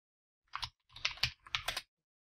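Three quick bursts of clicking keystrokes on a computer keyboard, close and crisp, as a terminal command is typed on a Linux system, with short pauses between bursts and no voices.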